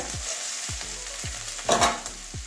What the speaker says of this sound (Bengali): পেঁয়াজটা কাঁচা গন্ধ যাওয়া পর্যন্ত ভেজে নেব